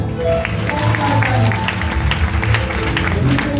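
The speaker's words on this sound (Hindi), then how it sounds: "यीशु मसीह की जोरदार ताली बजाएं।" A worship congregation clapping loudly in praise of Jesus, with energetic, dense clapping mixed with voices and music-like tones underneath, steady and close throughout.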